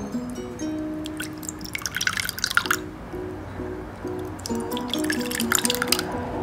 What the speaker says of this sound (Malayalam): എന്നതിന് ശേഷം നമുക്കൊരു ബൗളിൽ ഒഴിക്കാം.